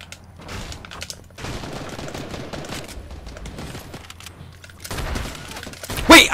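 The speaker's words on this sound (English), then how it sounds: "I hear a lot of gunshots." Rapid bursts of gunfire in the video game Fortnite crackle and pop in clusters, with thuds mixed in and a sharp burst at the end.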